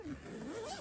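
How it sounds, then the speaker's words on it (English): One close zip runs for under a second, a quick rasping pull that rises and falls in pitch with a small catch along the way. "zip it up."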